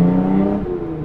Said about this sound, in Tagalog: dinig na talaga yung mga sasakyan sa kalsada